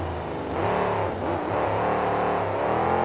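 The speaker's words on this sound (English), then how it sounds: "Loudest truck in the tour by a wide margin." Monster truck with zoomy headers, the loudest on the tour, roaring at a stadium show; a continuous loud, rough engine rev that swells and holds steady for about three seconds, dominating with no voices.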